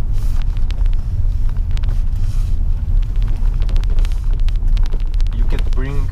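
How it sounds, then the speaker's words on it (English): A BMW E65 745i V8 cruises through the city at low revs with its exhaust cutoff valve open, giving a loud, continuous deep burble heard from inside the car, with a voice speaking briefly at the end. "cruise easily through the city with open cutoff valve and enjoy the sound of the low RPMs of this V8"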